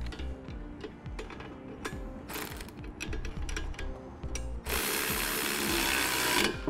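Socket ratchet clicking as a lock washer and hex nut are tightened with a 3/4-inch socket while installing a B and W heavy-duty trailer hitch receiver on a 1986 Chevrolet; a quiet run of ratcheting ticks, rising to a louder, denser burst near the end.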